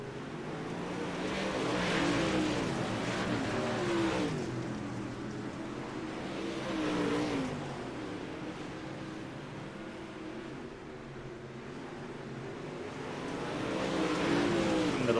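Dirt late model race cars in a sim racing game roar continuously, engines rising and falling with revving pitch sweeps as the pack circles the track, steady and fairly loud throughout.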